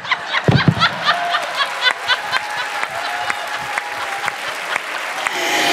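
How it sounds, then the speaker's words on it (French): An audience applauds comedian Jo Cormier at a live stand-up show at Salle Albert Rousseau in Québec, a dense, sustained burst of clapping from a full hall that carries on steadily throughout. "gardez vos applaudissements pour Joe Cormier!"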